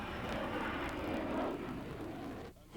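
A high-performance jet roars overhead at a 1990 airshow, a loud, sustained, rushing engine noise that wavers slightly and then cuts off sharply near the end.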